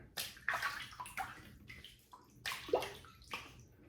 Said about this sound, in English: I'm gonna wet the face and we'll get started.